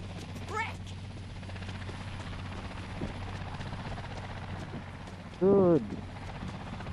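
In the video game Dead Island 2, a helicopter flying away gives a steady whirring rotor drone that holds at a moderate level, while someone speaks briefly over it.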